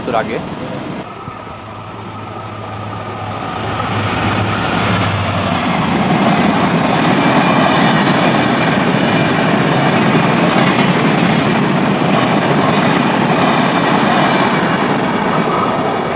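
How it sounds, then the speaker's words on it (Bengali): Sundarban Express passenger train running from Dhaka to Khulna, passing Padma station near the Padma bridge at Shibchar: a broad, steady rumble that swells within a few seconds and holds loud and close, with voices faintly underneath. "এটা হচ্ছে সুন্দরবন এক্সপ্রেস যেটা ঢাকা থেকে খুলনাগামী"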